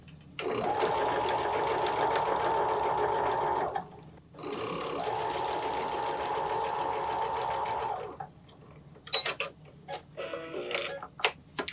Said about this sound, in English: And then I'm going to spin it around and sew 1/4 inch again.